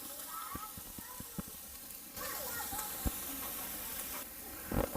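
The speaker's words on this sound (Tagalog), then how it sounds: "Sa isang kawali, nagpainit na tayo ng mantika. Lagay natin yung ating sibuyas, bawang," Onion and garlic sizzle in hot oil in a pan for a pork steak sauce. A steady frying hiss fills the clip, with a brighter surge partway through and a few soft knocks from stirring.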